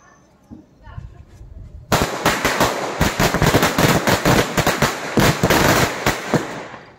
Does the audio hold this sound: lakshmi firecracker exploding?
yes